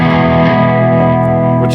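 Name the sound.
reverb effect on a Bad Cat guitar amplifier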